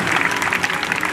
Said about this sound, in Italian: facciamo arrivare qui lassù il nostro applauso al tenente colonnello Massimiliano Salvatore